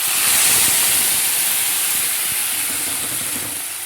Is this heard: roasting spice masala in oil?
yes